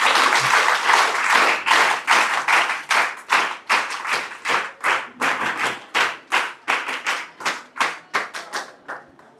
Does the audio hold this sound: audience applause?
yes